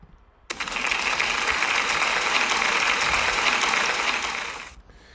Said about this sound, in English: Can we give Halle a big round of applause, please?